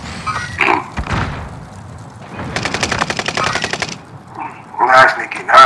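Video game gunfire rattles out as loud, rapid automatic bursts with heavy thumps in between, close and prominent, and voices are mixed in around the shots.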